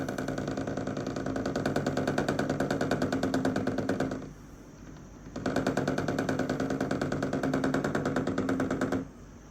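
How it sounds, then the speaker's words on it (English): A torquey electric motor driven by wireless power, spinning with a steady, rapid buzzing whir that cuts out briefly about halfway through and then resumes at the same pitch. "This is a pretty decently torquey motor too."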